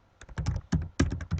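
Quick bursts of key presses on a computer keyboard while a password is typed, about eight crisp clicks in uneven clusters, close and isolated.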